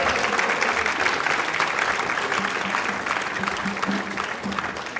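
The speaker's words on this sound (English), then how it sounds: "And a big round of applause, please, for Gunachuda, who directed that." A theatre audience gives sustained applause after a devotional play at a temple celebration, loud, dense clapping from many hands throughout, with a few faint voices beneath.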